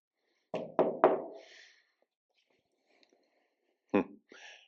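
Knocking on a sheetrock wall inside an apartment in Fontana Liri, Italy: three quick close knocks, a pause, then two more taps, in a quiet room.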